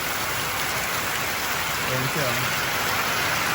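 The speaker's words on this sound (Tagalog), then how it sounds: "Ayan, ganyan yung ulan talaga, grabe." Heavy rain pours steadily onto a curved metal roof, a dense continuous hiss that runs throughout, while someone talks briefly over it partway through.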